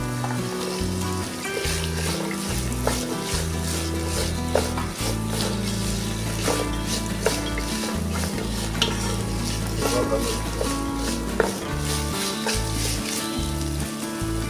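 Beans, carrots and other vegetables for veg biryani are stir-fried in a pan, a steady sizzle broken by repeated scraping and stirring clicks of a spoon against metal, close and continuous with no talk.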